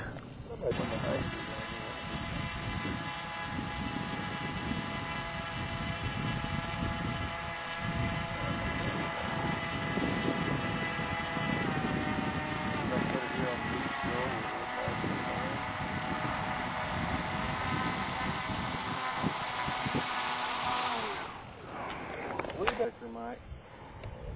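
An RC model plane called the Sharkey, on its maiden flight, drones with a steady motor whine and propeller buzz that holds loud and even for about twenty seconds before cutting off, with voices talking over it.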